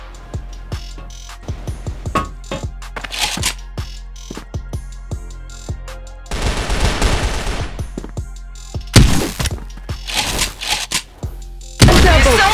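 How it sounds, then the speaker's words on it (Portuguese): Gunfire in the CrossFire online shooter game, loud close shots fired in sharp single cracks and rapid automatic bursts, with short pauses between volleys and no talk. "tá atirando sem me ver"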